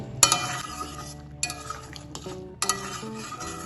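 A spoon stirring garam masala into a ridge gourd malaikari curry in a pot, a few separate bursts of scraping and clinking against the metal with a soft bubbling between them, close and without talking.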